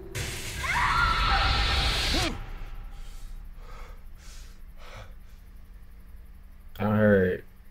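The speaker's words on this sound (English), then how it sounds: "I heard glass shattering?" Glass shatters in The Walking Dead: Season 1 video game with a loud crash and noisy burst lasting about two seconds. Quieter breathing and gasping sounds follow, then a short vocal sound.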